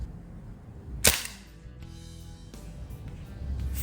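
A single sharp crack from a SIG Air MPX CO2 air rifle fired at a target outdoors, close and brief, followed by a faint ring and quiet background.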